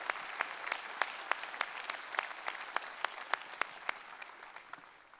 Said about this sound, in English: So you can clap for yourself now.